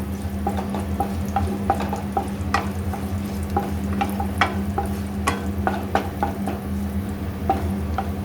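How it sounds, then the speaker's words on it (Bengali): Tempering spices with curry leaves being stirred and fried in a pan, a steady close sizzle under irregular scraping and clicking strokes from the stirring, with a constant low hum behind it. "ফোড়নের জন্য যে জিনিসগুলো রেখেছিলাম ওইগুলো দিয়ে দিলাম। অল্প নাড়াচাড়া করে নিলাম।"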